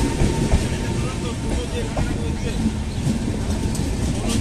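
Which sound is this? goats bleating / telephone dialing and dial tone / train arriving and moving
train arriving and moving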